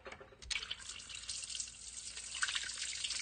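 Gasoline pours and splashes out of the cylinders of an LS-swapped Ford Ranger engine after stuck-open injectors flooded them, a faint, continuous trickling with small drips and splashes.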